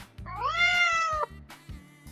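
A white cat gives one clear, rising and falling meow lasting about a second. Faint low background tones sit beneath the call, followed by a short pause and softer sounds.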